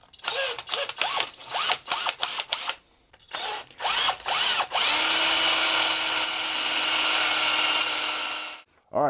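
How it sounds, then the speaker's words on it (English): A power drill bores a hole into the cavity of an electric guitar body, first in short stop-start bursts and then in one sustained, loud whine of several seconds before stopping. "I want to drill a hole from here into this cavity."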